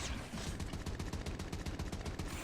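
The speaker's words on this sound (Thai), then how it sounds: "เรายิงกดดันไป" Rapid automatic fire from an HBRa3 assault rifle in Call of Duty Mobile, a steady stream of sharp, evenly spaced shots running loud and close for the full stretch with no talk.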